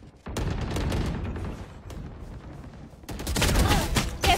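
Rapid bursts of gunfire fill a shooter video game match, dense crackling volleys that pause briefly and then return louder and heavier near the end, with faint talk mixed beneath.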